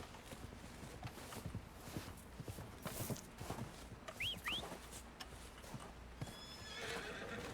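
A horse whinnies in Red Dead Redemption 2 with a rising, squealing call amid steady hoof clops and ambient outdoor noise, with a bird-like chirp near the end.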